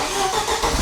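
A 1972 Saab Sonett III engine cranks and catches, loud and close, in a brief burst of engine noise.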